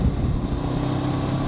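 A 2021 Honda CB500X motorcycle underway, its engine a steady low rumble mixed with road and wind noise, close and continuous for a brief moment.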